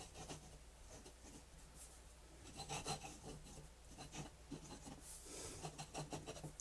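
A fountain pen from Amazon, with a freshly inserted ink cartridge, glides across paper under very light pressure, making faint, close scratchy strokes in an uneven rhythm over a quiet background hum.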